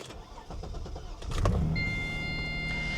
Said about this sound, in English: Put the key in. We'll start it up for you guys.